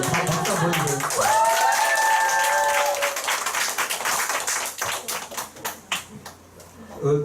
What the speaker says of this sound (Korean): 박수 한번 보여주세요